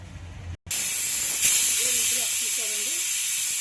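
A pressure cooker cooking mutton curry on a stove lets off a loud, sustained hissing whistle of steam after a brief cut, with a voice faintly heard underneath.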